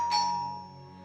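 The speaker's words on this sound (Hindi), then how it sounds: "कोई घंटी बजा रहा है" A single soft chime rings out and decays over a low steady hum, like a doorbell heard indoors.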